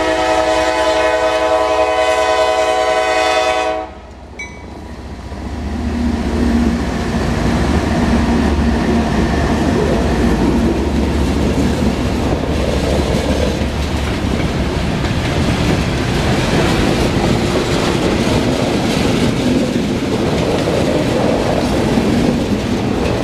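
A juice train passes on a sharp curve in the rain, opening with a loud sustained multi-tone horn, then a long run of rumbling, clattering railroad cars rolling by close and steady.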